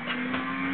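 Racing car engine in the video game Gran Turismo 5, a steady high-pitched drone held loud and close for a brief moment, no voices over it.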